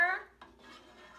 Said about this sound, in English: Give a stir.